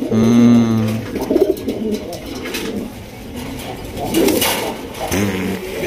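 Large Raj Golla pigeons coo in a cramped pen, deep rolling calls recurring close by in several bursts, with someone talking intermittently over and between them.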